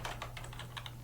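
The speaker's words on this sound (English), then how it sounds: "as you are casually typing away" Fingers tap out quick, light keystrokes on a computer keyboard, a soft, close, irregular patter of clicks over a faint steady hum.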